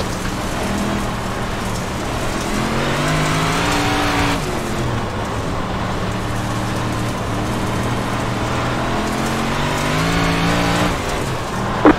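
Dirt big block modified race cars in the iRacing game run at Fairbury Speedway, their engines droning loud and steady with rising and falling pitch over a gritty, rain-like hiss throughout.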